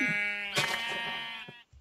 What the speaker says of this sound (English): Oh my god, I haven't seen sheep this whole time.